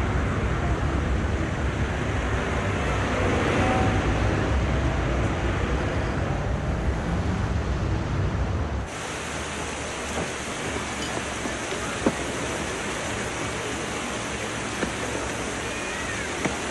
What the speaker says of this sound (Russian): Так вот же вода.